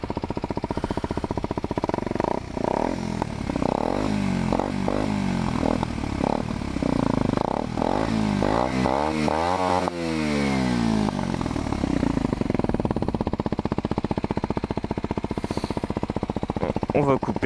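A Kawasaki Z125 small motorcycle with an aftermarket Arrow exhaust revs up from idle, its engine note climbing and falling through repeated throttle blips, loud and close, with speech over parts of it.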